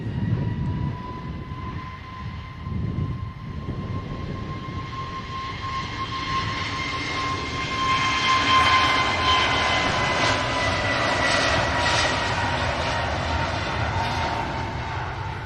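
Jet engines of an airliner departing for Tenerife, a steady tonal whine over a deep rumble that swells louder and broader as the aircraft passes, with no talk over it.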